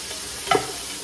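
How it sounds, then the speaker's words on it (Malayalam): Shredded cabbage stirred in a hot pan for chicken fried rice, a steady sizzle with one brief louder stir or toss in the middle. "ക്യാബേജ് ഇടണം. അത് ജസ്റ്റ് ഒന്ന് വഴറ്റുക."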